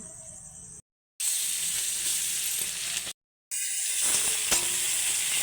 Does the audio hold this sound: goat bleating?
no